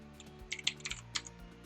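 A noisy computer keyboard clatters under quick, irregular typing, with a steady run of sharp, close key clicks and no talking.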